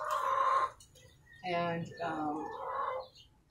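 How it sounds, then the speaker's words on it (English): Two roosters on a farm with goats and chickens crow nearby in drawn-out calls that rise and fall, with some clucking mixed in and brief talk at the start. "one of the two roosters going at it over there"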